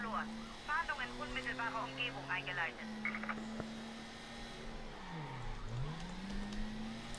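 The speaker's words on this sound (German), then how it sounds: "Die Karre hat nichts drauf, gib mal Stoff, Junge!" A car in Mafia III driven hard, engine droning and rising in pitch, then dipping and climbing again as it revs, with people talking over it.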